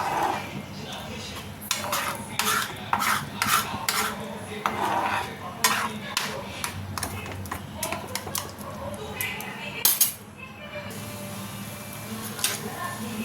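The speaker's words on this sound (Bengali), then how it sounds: "এবার সবগুলোকে একসঙ্গে ঘেটে দিতে হবে" Maggi noodles with flakes and herbs are stirred in a pan, with a utensil scraping and clinking against the metal in repeated strokes, close and clear.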